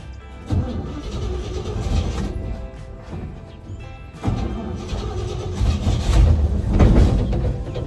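A GMC Squarebody truck cranked in an attempt to start it: rough, loud mechanical churning that cuts off briefly, then resumes stronger and grinding, with clunks and rattles and no talking.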